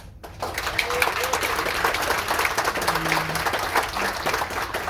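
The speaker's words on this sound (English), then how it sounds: "by a round of applause" An audience gives a round of applause during a Call My Bluff game night, with steady dense clapping filling the room alongside some faint voices.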